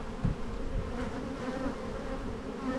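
Honey bees buzz steadily around the entrance of a yellow backyard hive during spring buildup, a dense continuous hum close by with no voices.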